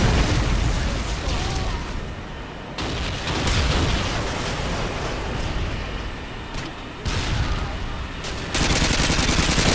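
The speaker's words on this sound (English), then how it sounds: "Friendly Predator missile inbound." Gunfire and explosive blasts from a Call of Duty Modern Warfare 2 multiplayer match, with a Predator missile strike among them; a dense, loud, continuous barrage with heavy bursts and sharp cuts in the mix.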